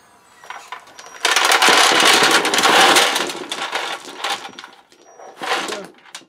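Small electric motor of a toy dump truck converted to radio control, whining and rattling loudly as the bed tips and the load slides out, in uneven bursts that fade and swell again.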